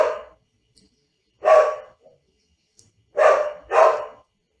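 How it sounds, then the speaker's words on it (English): A pet dog barks in the background, four separate woofs in an uneven rhythm with silent gaps between, fairly near and with no voices over them. "That's my dog in the background"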